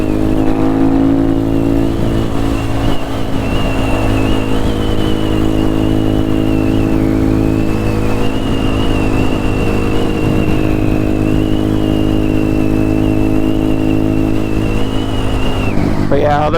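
Honda Grom motorcycle engine heard while riding, a continuous close buzzing drone with steady harmonics and slight pitch shifts, with wind noise throughout.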